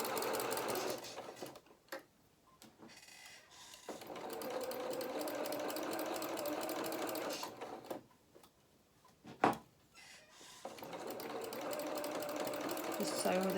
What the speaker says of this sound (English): Just sewing with a 1/4 inch seam allowance.